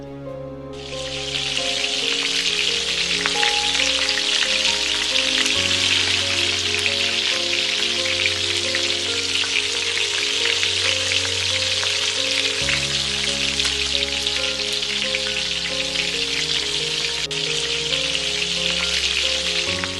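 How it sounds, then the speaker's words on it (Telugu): Nargisi kofta balls deep frying in hot oil, a steady dense crackling hiss that holds for the whole stretch, with a low hum running beneath and no voices. "ఇదే విధంగా మిగతా అన్నిటిని ఫ్రై చేసుకుంటున్నాను"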